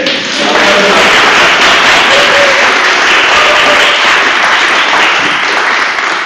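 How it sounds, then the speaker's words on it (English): Loud, dense clapping from a graduation ceremony audience for the graduating class, steady and sustained throughout without a break. "And the biggest applause ever for yourself as MSCI."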